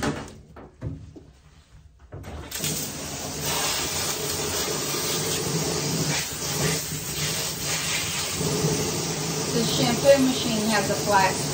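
Shampoo machine with a flat spray nozzle hissing water onto a double-coated Corgi during a bath, a steady close spray starting after a few clunks and short pause, continuing evenly to the end.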